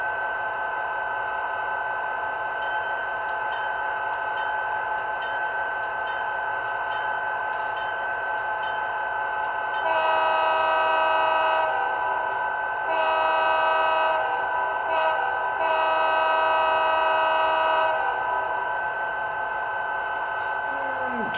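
Kato SD40-2 model diesel locomotive sound from a LokSound decoder through a tiny sugar cube speaker: a steady engine drone throughout, with loud sustained horn blasts joining from about ten seconds, close and continuous.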